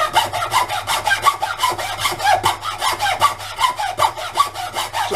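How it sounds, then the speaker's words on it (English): A hacksaw cuts through scrap wood from a building site in steady back-and-forth strokes, each rasping pass loud and close with no talk over it. "The hacksaw will produce a"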